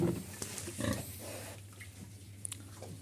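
A sow and her piglets in a pen, giving a close burst of grunting and squealing grunts in the first second, then quieter snuffling noises.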